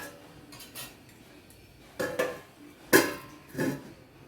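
A heavy grinding stone is set down on a covered pot sitting inside a wok, making a few sharp clanks and knocks of stone and metal, spaced apart with quiet between them, close and with no talk.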